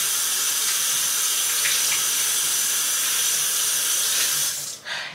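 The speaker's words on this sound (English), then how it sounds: "We're gonna wash our hands." Tap water runs steadily into a home sink while hands are washed, a loud, close, even hiss that cuts off just before the end.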